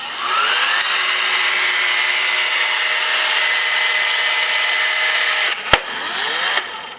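A DEWALT 20V cordless caulking gun runs with a steady motor whine while it dispenses silicone, holding an even pitch for several seconds before a sharp click and a brief tail-off near the end.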